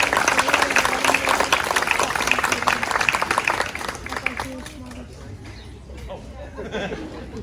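Audience applause at a sixth grade graduation ceremony in the United States, loud and dense at first with a voice over it, then thinning and fading toward the end.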